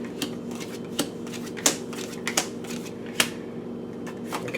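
Tarot cards being shuffled by hand in short riffling bursts and soft taps, irregular and close, with no talking.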